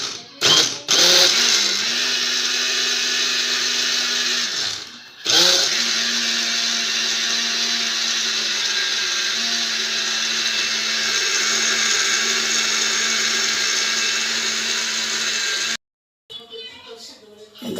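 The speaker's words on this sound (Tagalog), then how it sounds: "blender na natin." A blender whirs loudly and steadily for a long stretch while making dinuguan, with brief pauses near the start and a cut-off near the end.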